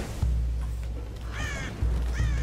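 Crows caw in the video game Tomb Raider, two distinct harsh caws heard at a moderate distance over a steady low ambient rumble.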